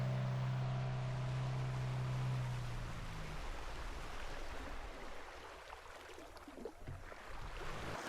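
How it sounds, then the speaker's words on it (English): Water rushing and churning off the stern of a boat driven by an ePropulsion Spirit 2 electric outboard, a steady broad wash with no engine noise, a low tone fading in the first seconds. "You can only hear the water coming off the back of the boat"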